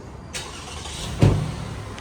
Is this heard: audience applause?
no